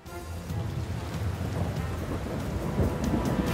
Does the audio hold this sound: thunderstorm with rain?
yes